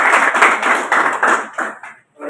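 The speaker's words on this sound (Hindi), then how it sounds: "जोरदार तालियां।" Applause at an Indian foundation-day ceremony for the National Board for Workers Education and Development, a burst of clapping that pulses unevenly, fairly loud and close, then thins out and briefly stops near the end.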